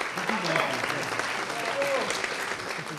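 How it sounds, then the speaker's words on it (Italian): Guests at a hotel dinner celebration clap steadily and fairly loudly, with voices calling out and chatter mixed into the applause. "Applausi, applausi, applausi."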